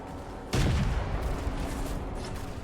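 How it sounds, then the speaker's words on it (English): Heavy gunfire and explosions on a beach in the game Beach Invasion 1945 Pacific, a dense sustained barrage that bursts in loudly after a brief quieter moment and keeps rumbling on. "Quite a lot of fire being put down."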